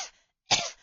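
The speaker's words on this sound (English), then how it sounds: "I'm making myself cough." A single deliberate cough, one sharp close burst from a person, following a brief breathy onset and a short silence.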